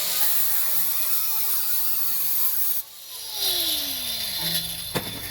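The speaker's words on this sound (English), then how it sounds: "I'm just gonna use the grinder with the diamond cutoff wheel." An angle grinder fitted with a diamond cutoff wheel cuts through metal during rust-hole repair on an old Chevy two-door Tahoe, giving a continuous high, harsh whine that dips briefly and then winds back up with a falling pitch.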